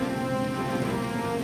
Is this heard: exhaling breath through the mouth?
no